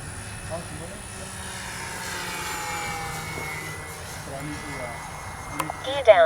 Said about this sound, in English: we're going to do the same fast pass, but from the other direction with the wind